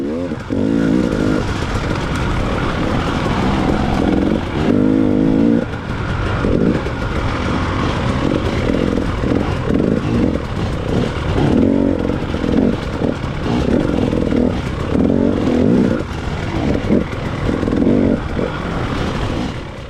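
Motorcycles ride along in a group, a loud continuous engine drone rising and falling with gear changes and revs throughout, heard close as if from the rider's own bike.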